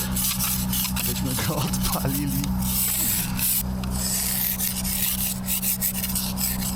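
Scraping frost off a frozen car before a delivery run in winter: a close, rough rasping scrape repeats in short strokes over a steady low hum, with brief talk partway through.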